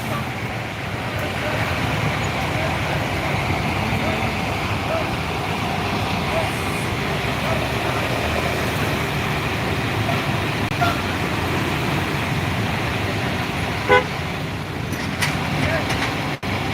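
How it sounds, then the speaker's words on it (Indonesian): Congested traffic with buses, including overnight and double-decker coaches, at Bulak Kapal in Bekasi makes a steady, loud roadside rumble of idling and crawling engines, with people talking nearby throughout. "Tuh, macet."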